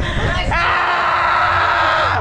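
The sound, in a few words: group of people shouting together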